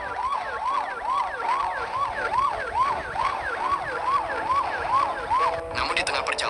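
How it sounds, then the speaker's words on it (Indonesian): An ambulance siren wails in a fast, repeating rise-and-fall pattern, loud and close, then cuts off abruptly near the end into a burst of clatter. "suara sirin ambulans tiba-tiba berubah"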